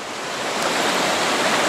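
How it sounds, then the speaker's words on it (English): Whitewater rapids on the Mulberry River rush steadily as kayakers pass through a big rapid in 40-degree water, a dense, loud, continuous roar of churning water with no pauses. "Here we are in the big rapid we first came to today."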